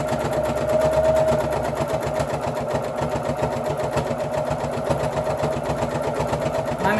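A sewing machine stitches through four layers of fleece with a rapid, steady mechanical chatter, fairly noisy and close, running continuously with no talking.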